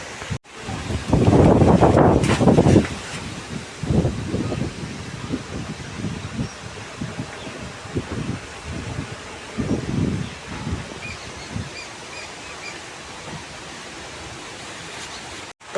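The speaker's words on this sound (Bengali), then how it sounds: "বিশাল জোরে মানে হাওয়া হচ্ছে, ঝড় হচ্ছে।" Strong storm wind blows in loud, rough gusts at first, then eases to a steady rushing hiss with intermittent buffeting bursts against the microphone.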